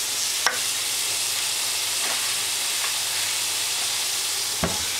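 Grass-fed beef burgers sizzle in a pan with a steady, loud frying hiss that runs unbroken, punctuated by a few sharp pops and crackles.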